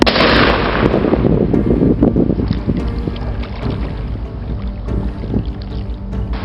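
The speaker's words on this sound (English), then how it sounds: "This is just a little pen launcher and a little true flare bear banger on top of it." A bear banger flare is fired from a small pen launcher outdoors on an island by falls: a sharp, close bang at the start, followed by steady wind and rushing water noise.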